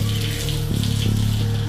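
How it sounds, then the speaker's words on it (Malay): Heavy rain pours down in a steady, dense hiss with a low droning hum underneath, close and continuous with no voices. "Hujan lebat ni."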